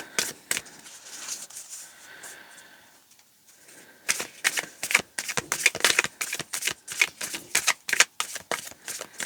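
Rapid riffling shuffles of playing cards in quick bursts, close and crisp, with a brief pause before a run of sharp repeated snaps.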